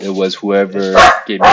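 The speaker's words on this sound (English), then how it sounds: "I think your dog was too loud." A loud dog barks close to the microphone, sharp bursts mixed in with a person's voice talking during a phone call.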